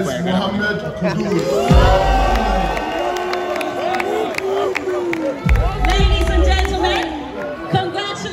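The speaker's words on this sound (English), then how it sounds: "A big round of applause, ladies and gentlemen." Loud crowd cheering, shouting and clapping at a football awards ceremony, a dense continuous roar with voices rising and falling throughout and heavy low thumps at times.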